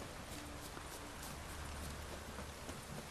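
Rain falls steadily in The Witcher 3, a constant wash of pattering drops at low volume, with faint hoof clops of a horse mixed in and no voices.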